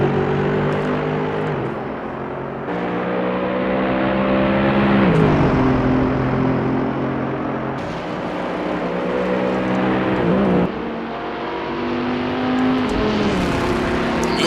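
Low-downforce GT race cars lap the tight, twisty Bahrain circuit, their engines roaring loud and close with rising revs and repeated gear-change drops, one long sweep blending into the next with no talk.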